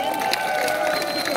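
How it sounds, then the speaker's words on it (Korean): Studio audience applause at a taping of a Korean nationwide top-10 music show, a steady dense wash of clapping and crowd noise throughout, fairly loud and continuous. "자 박수"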